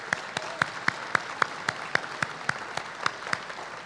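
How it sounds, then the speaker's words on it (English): Crisp, evenly spaced claps ring out in a steady rhythm, about four per second, at a festival celebrating a newly built facility. The claps sound fairly close over a light background hum, with no talking. "if we could have a round of applause for our craft that put this together"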